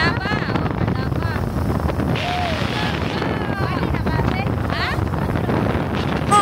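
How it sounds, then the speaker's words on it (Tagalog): Strong wind roars and buffets the microphone outdoors, a loud continuous rushing that persists throughout, with faint voices and scattered bird calls underneath. "sobrang ingay ng hangin"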